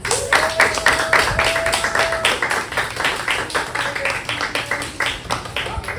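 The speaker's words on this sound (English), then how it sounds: "if we could give them a round of applause" A crowd claps steadily in scattered rapid applause, moderately loud, with a brief tone ringing underneath.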